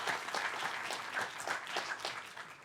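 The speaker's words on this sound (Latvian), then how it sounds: "sagaidām ar skaļiem aplausiem Ivo Laku" Audience applause welcoming a speaker to a lecture, a steady, moderately loud burst of many hands clapping that carries on evenly for under three seconds.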